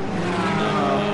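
An FIA GT3 race car at the Algarve circuit roars past the start-finish line, a loud steady engine note that fills the whole short moment without any talk.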